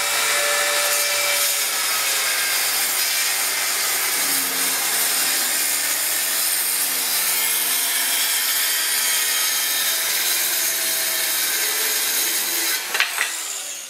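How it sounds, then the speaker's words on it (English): A skill saw cutting macrocarpa wood to length, a loud continuous whining cut that holds steady and ends with a couple of short knocks. "when I run the skill saw through, it'll cut exactly on this line"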